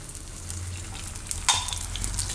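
Handvo fries in a little oil in a pan over a low flame after being flipped. A soft, steady sizzle holds throughout, with one brief sharper crackle partway through. The frying sounds close but quiet, and there is no talking.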